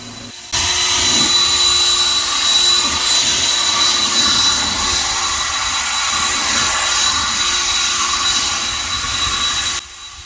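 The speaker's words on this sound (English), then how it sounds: "Jet airplane." A jet airplane passes overhead in a residential neighborhood, a loud continuous roar with a steady hum that starts abruptly and cuts off near the end, with no talking.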